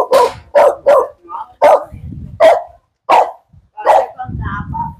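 A dog barks repeatedly in sharp, loud bursts at close range, with short gaps between barks and some quieter rustling noise in between.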